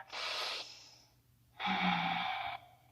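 Two slow, deep breaths taken during a power vinyasa yoga practice, a long inhale and then a long exhale, close and soft with a pause between them.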